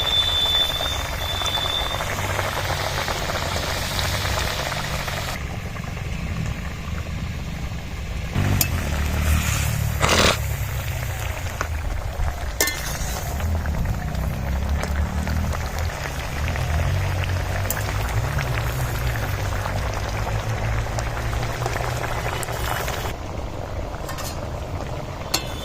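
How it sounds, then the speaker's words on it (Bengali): A curry gravy bubbles in a pot at a steady simmer for a long stretch, with occasional clinks and clatters of cooking nearby. "ঝোলটা ফুটে গেছে, আমি এবারে ডিম আর ফুলকপি ভাজাটা দিয়ে দিচ্ছি"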